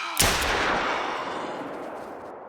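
A single loud rifle shot in the hunting game theHunter: Call of the Wild, on the Rancho Del Arroyo map, fired at a whitetail deer, with a sharp crack and a long rolling echo fading over two seconds, no talk.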